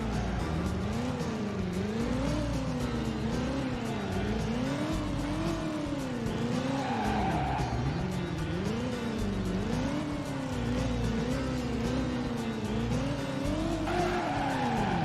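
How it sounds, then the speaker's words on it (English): A car in a PlayStation 1 driving video game, its engine whining up and down in a wavering drone with tyre squeal and skidding, loud and continuous throughout. "one of the coolest fucking driving games on the PlayStation"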